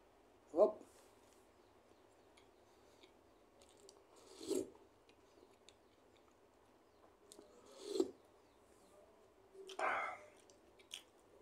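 Someone bites and chews soft bread near the microphone, making four or five brief, faint crunchy bites separated by quiet pauses.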